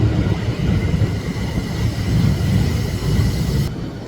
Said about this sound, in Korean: 지하철 탔는데 지하철이 예뻐요